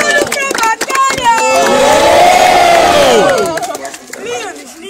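A crowd at a rap battle semifinal bursts into loud cheering and shouting, with a sustained rising roar in the middle that fades back toward scattered voices.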